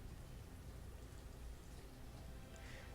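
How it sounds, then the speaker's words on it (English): Steady, faint rain falls during a rainy day in the city-building game Banished, a soft continuous hiss with no voices. "Rainy day."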